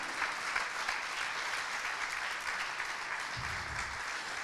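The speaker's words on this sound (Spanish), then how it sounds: "Le damos un fuerte aplauso al Señor" A church congregation claps steadily and continuously for several seconds, a dense, even round of applause with a brief low thump near the end and no clear talking.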